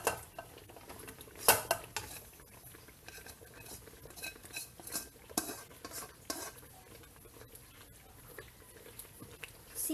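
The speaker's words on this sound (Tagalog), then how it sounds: "ihahalo na natin ngayon yung ating ginisang gulay sa ating kare-kare" Sautéed vegetables are stirred into a pot of Filipino kare-kare, with scraping spoon clinks against metal and soft wet stirring, a few sharper knocks standing out over a low, quiet simmer.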